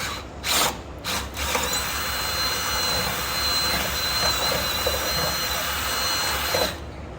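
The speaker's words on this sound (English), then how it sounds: "we get a smaller drill bit and get up in there" A drill with a smaller bit runs steadily on a '54 Ford F100 truck in a speed shop, whining continuously and fairly loud for several seconds after a few brief knocks at the start.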